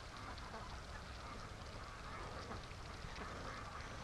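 Free range ducks quack and honk repeatedly in an overlapping, busy chorus at moderate distance, outdoors and without speech.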